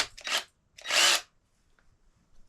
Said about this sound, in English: ratchet wrenches.